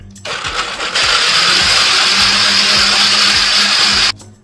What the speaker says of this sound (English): depending on the blender that you have in the settings, liquify or puree, you wanna get it as broken down as possible